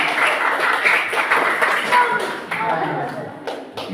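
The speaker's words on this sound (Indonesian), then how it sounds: "Ya, berikan aplaus dulu ya." A classroom group gives a round of applause for a group presentation in a teacher-training session. Steady clapping from many hands fills the room, dense and fairly close, tapering slightly toward the end.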